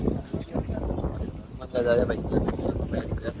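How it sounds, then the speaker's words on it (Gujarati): Gusts of strong seashore wind near Somnath buffet the microphone in loud bursts while a person talks over the blustery noise. "પવન ખૂબ જ છે"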